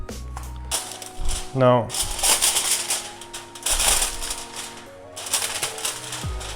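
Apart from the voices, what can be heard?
tin foil being laid into a cake form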